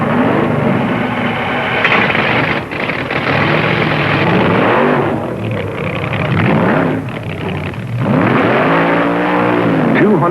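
A dragster at the 1970 NHRA Supernationals at Ontario Motor Speedway roars loudly and close, its engine revving in repeated surges with brief dips between pulls.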